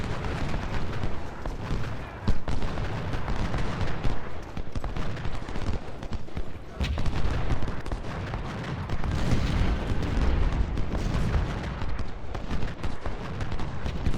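Gunfire and artillery on a Civil War battlefield in the video game Ultimate General: Civil War, a dense, continuous rumble of musket volleys and cannon booms with no pause throughout.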